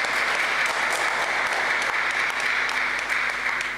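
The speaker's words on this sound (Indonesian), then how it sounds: "Berikan aplaus kepada mereka." An audience claps loudly and steadily at a Christmas youth service of the HKBP Tamarunang church in South Sulawesi, with dense applause filling the whole stretch.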